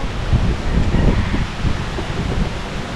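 Gusty outdoor wind buffets the microphone at a rural homestead on Guimaras, a steady low rumble with rustling swells and no talk.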